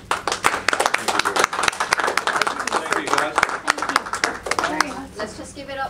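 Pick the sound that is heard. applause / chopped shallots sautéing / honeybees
applause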